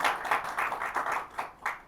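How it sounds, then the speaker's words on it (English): Audience applause at an indoor mountaineering talk event, a brisk patter of hand claps from a modest crowd, close and fairly even, thinning slightly toward the end. "Good round of applause to everyone."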